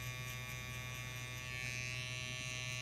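Electric hair clippers buzz steadily and close up throughout a haircut with beard shaping in a barber studio, a constant even drone with no speech over it.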